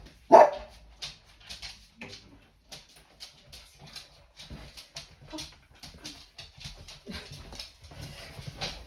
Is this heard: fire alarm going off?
no